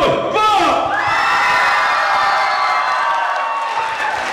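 A school hall audience cheers for a dance pair during a competition, a loud sustained roar of shouts, whoops and high children's yells that swells at the start and holds steady before easing off.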